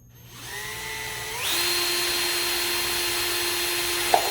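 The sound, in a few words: power drill making holes in orchid pot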